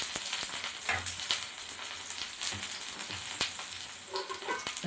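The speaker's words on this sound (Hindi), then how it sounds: "इसी तरह से सेलो फ्राई करूँगी" Rekoch shallow-fries in oil over a low flame, a continuous soft sizzle and crackle with scattered sharp pops and ticks, quiet and close.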